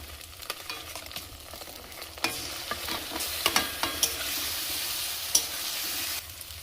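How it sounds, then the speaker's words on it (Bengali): Onion fries in oil with dried red chillies and whole garam masala for a village-style chicken curry, making a constant close sizzle with scattered stirring scrapes and clicks, no voices. "শুকনো লঙ্কা, গোটা গরম মশলা ফোড়ন দিয়ে এবার পেঁয়াজটাও ফোড়ন দিয়ে দিচ্ছি।"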